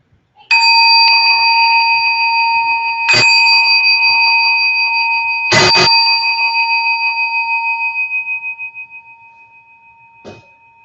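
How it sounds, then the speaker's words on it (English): A bell rings out at the start of a spiritual meeting, three clear struck tones with long ringing decay, loud and close, followed by a faint fourth tap. "I forgot to ring the bell when we first started."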